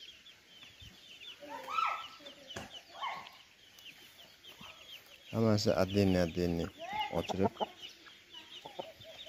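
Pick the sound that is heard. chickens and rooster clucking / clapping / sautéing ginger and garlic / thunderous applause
chickens and rooster clucking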